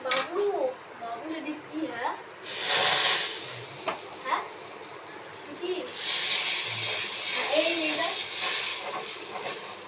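Pieces of tiffin frying in a little oil in a pan, a steady loud sizzling hiss that swells in two long bursts, with someone talking over it throughout.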